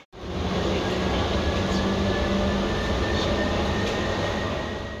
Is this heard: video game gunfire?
no